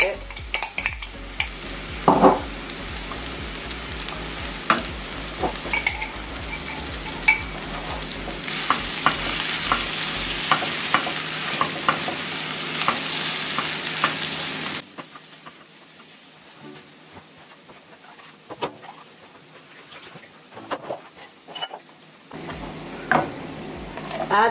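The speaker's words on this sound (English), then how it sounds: "Fry that for another 2 minutes just so that it combines with the curry powder." Vegan Jamaican-style curry with curry powder frying in a pan, a steady sizzle broken by scraping stirs and utensil clinks, then quieter spoon taps after the heat fades.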